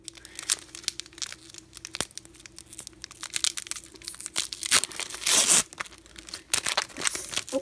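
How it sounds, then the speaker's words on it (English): A Pokémon card booster pack from a Kingdra ex box being torn open: a continuous run of close plastic crinkling and crackling, with a louder ripping burst in the middle, and no voices. "let's open up this pack"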